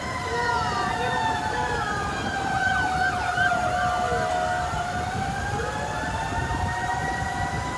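A fire truck siren wails steadily near a fire on the UP Campus in Quezon City, its rising and falling tones holding loud over continuous street traffic noise.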